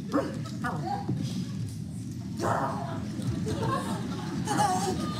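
Improv performers on stage vocally imitate dogs, producing a string of yapping barks and yips over crowd noise, with talk and laughter around them.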